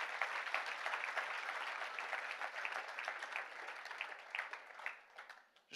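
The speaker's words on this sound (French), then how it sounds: "Est-ce qu'on peut applaudir le Seigneur?" A church congregation applauds during a service, a fairly faint, steady patter of many hands clapping that continues for several seconds and then dies away abruptly.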